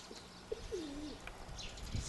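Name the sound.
grey pigeon landing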